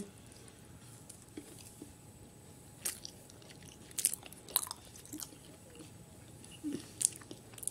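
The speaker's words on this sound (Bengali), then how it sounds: "আর এখনই দেখো কলা খাচ্ছি" Someone eats a banana up close, with soft, irregular biting and chewing sounds and occasional slightly louder moist smacks over a quiet room, and no talking.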